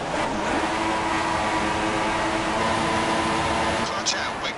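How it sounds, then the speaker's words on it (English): An F1 car engine in the F1 2016 racing game, Melbourne circuit, is held at high revs before the race start, a constant loud buzzing drone lasting the whole stretch. "Build some revs and hold them."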